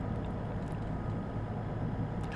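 A Class 150 diesel multiple unit engine idles in the Train Sim World game on the Cardiff City network, giving a steady low rumbling drone with no talk over it.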